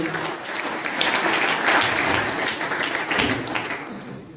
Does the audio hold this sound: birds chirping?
no